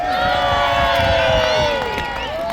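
A crowd at an outdoor historical festival with gladiator fights cheers and shouts loudly, with voices yelling and whooping in a dense, rising roar that eases slightly toward the end.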